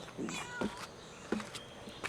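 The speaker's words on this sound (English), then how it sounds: "Hey there, Mama Cat." A mother cat meows several times in a quiet garden, short close calls spaced across the moment with soft background between them.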